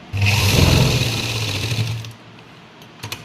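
A sewing machine runs steadily for about two seconds while back-stitching a salwar seam, then stops, followed by a couple of faint mechanical clicks, all close by.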